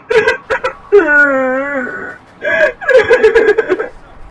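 A woman, covered in spilled flour on a kitchen floor, breaks into loud, wavering sobs and whimpers, with short choked gasps before and after a long drawn-out wail, close and alone.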